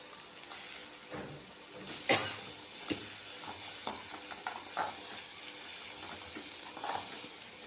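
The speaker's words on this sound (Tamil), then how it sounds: "இப்போ இந்த பீர்க்கங்காய் தோலை போட்டு கொஞ்சம் நேரம் வதக்கணும்" Ridge gourd peel sautéing in a little sesame oil for a chutney, a soft steady sizzle broken by intermittent scraping and stirring clatters from a utensil in the pan.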